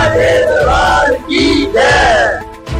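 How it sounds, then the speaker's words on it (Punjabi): A crowd shouts the Jaikara chant for Sheranwali Mata at the release of a Punjabi devotional Mata bhent, with loud, full-throated rising cries in two or three surges. "ਜੈਕਾਰਾ ਸ਼ੇਰਾਂ ਵਾਲੀ ਦਾ"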